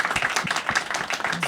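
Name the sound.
audience applause for the panelists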